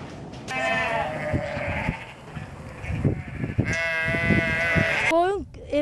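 Sheep bleat loudly and repeatedly at a farm, some calls near and long, with someone talking over them and low farmyard noise throughout.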